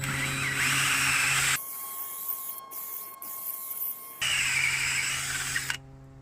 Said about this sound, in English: I don't really have an auger bit that's big enough for this, so I'm using a hole saw.